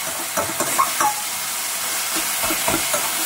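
Spiced dheki shaak fern greens frying in a pan, a steady close sizzle with a few stirring scrapes and crackles scattered through, no talking.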